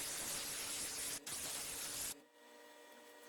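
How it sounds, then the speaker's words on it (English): Aerosol spray can hissing dandelion yellow paint onto the arms of a SpongeBob figure, a loud broadband hiss in two bursts with a short break, then stopping abruptly into quiet room tone. "But we're gonna spray the arms right now."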